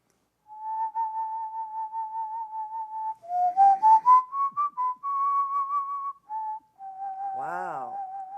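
A man whistles a slow, mellow melody in a low register with vibrato, holding long sustained notes and sliding between pitches, close and clear against silence, ending on a warbling trill.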